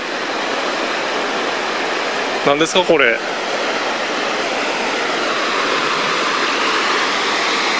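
A river at Shima Onsen rushes past a hot-spring street, a steady broadband babble of flowing water close by, briefly interrupted by a short spoken question.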